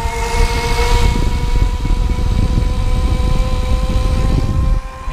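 An Add-E 600W ebike kit motor whines steadily as the bike speeds up along a long flat straightaway, a sustained tonal hum over loud wind and road rumble, fairly close and without talk.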